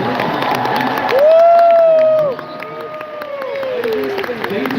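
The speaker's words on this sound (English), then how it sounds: "I would like to hear a big round of applause for every staff member" A crowd at a furry convention closing ceremony claps and cheers loudly, with a rising whistle-like tone sweeping over the noise before the applause settles to a steady patter.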